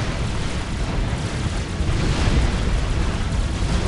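Medium tanks firing and shells exploding in a Supreme Commander battle, a dense, continuous low rumble of blasts and booms, loud throughout with no clear gaps.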